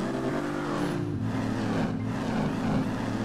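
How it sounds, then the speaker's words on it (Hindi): A naturally aspirated Ford Mustang engine in the GTA 5 video game hums steadily and loudly, its idle tone shifting pitch slightly in a close, continuous drone. "मतलब एस्पिरेटेड इंजन है।"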